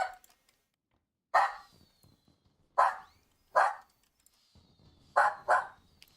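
A dog barks in the background in separate bursts, one, then two spaced singles, then a quick pair, mid-distance and fairly loud against near silence.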